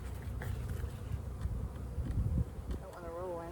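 Honey bees buzz close by at a hive in a busy, wavering hum, with some handling noise and a brief higher whine near the end.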